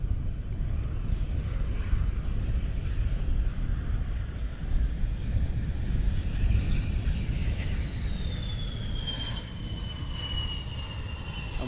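Military jets taxi at RAF Lakenheath with a continuous loud engine roar and rumble, and a rising turbine whine grows stronger as the aircraft draw nearer, with wind buffeting the microphone throughout.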